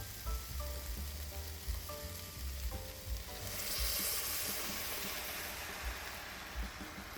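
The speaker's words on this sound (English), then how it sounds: "Now it's time for us to add in the tomatoes." Tomatoes going into a pan of sautéing onions, peppers, oregano, basil and garlic, a steady close sizzle with clattering stirring sounds, quietly layered with soft background music early on.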